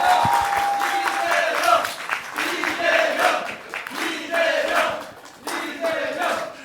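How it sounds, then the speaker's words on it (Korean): A studio crowd sends off Seongnam mayor Lee Jae-myung at the close of a broadcast. Loud clapping mixes with rhythmic, chant-like cheering in repeated surges of voices, each rising and falling in turn. "박수로 보내드리겠습니다."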